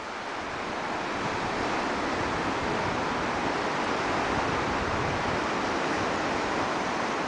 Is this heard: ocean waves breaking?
yes